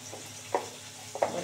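Potatoes frying in a pan with salt and turmeric give a soft, steady sizzle, broken by two or three close scrapes of a spoon stirring through them.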